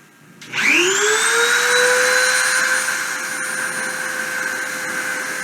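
Machine spindle spinning up to 30,000 RPM, a rising whine that climbs quickly then holds as a steady loud high-pitched tone with a broad whooshing hiss, close and continuous, no talk.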